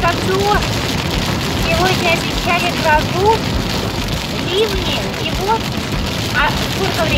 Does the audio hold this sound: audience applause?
no